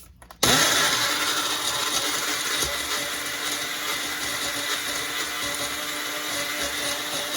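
A blender starts abruptly and runs loud and steady, grinding fish masala with vinegar into a paste, a continuous close whirring roar with no talk.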